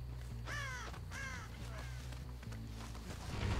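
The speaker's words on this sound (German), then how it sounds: "dann sind die Krähen weggeflogen" Crows cawing in the Dead by Daylight video game, several harsh calls in quick succession over a steady low game drone.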